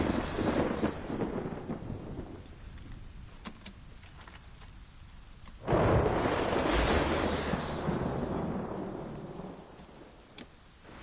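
A thunderstorm rumbles in the video game Assassin's Creed Rogue, with steady rain hissing throughout. A loud, close thunderclap crashes midway and rolls off slowly under the continuing downpour, with no talk.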